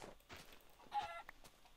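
Chicken clucking in the video game Minecraft, a few short, faint clucks spread across a quiet moment with no talking.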